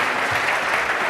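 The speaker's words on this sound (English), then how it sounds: "Let's give him a round of applause." Audience applause for a contestant at a startup pitch competition, a dense, steady round of clapping filling the whole moment.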